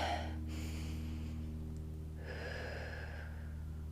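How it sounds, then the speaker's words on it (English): A single person takes an audible breath, a brief sharp inhale followed by a softer exhale, close and quiet over a steady low hum, with no talking. "Take a breath."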